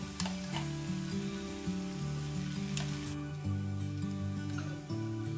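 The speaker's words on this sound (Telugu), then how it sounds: "అల్లం వెల్లుల్లి పేస్ట్ వేగాక గ్రైండ్ చేసుకున్న మసాలా పేస్ట్ వేసుకుందాం." Ground masala paste, added after ginger-garlic paste has fried, sizzles in a pan with a steady crackling hiss, punctuated by a few clicks and stirring scrapes over continuous background music.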